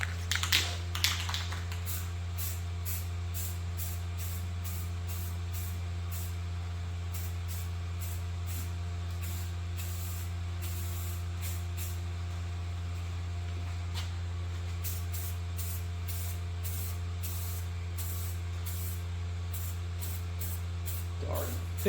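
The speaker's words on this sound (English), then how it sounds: "Got the old Duplicolor in Jerry. So let's throw a few coats of this on," A Duplicolor spray paint can lays coats on rebuilt rear trailing arms for a Spitfire. Repeated short hissing bursts come in a steady rhythm over a constant low electrical hum.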